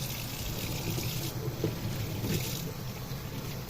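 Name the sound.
rinsing with running water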